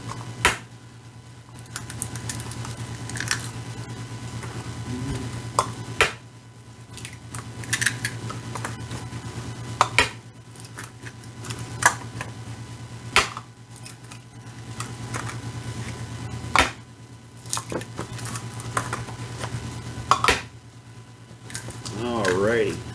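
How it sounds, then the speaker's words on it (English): Six eggs cracked one after another into a bowl for white chocolate blondies, each a sharp, close tap on the rim spaced a few seconds apart, over a steady low hum. "now I'm going to use 6 eggs."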